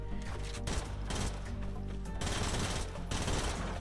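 Mythic compact SMG in Fortnite Creative fires in long rapid automatic bursts, loud and close, with a brief break and then more sustained fire over game ambience.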